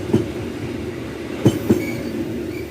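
Railway cars rolling past under a bridge at the Cangkring village level crossing, giving a steady low rumble with a few sharp clacks of wheels over rail joints.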